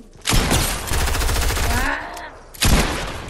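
Rapid automatic gunfire in the video game Fortnite rattles out in two loud bursts, a long sustained volley followed by a short second burst after a brief gap, close and dominant.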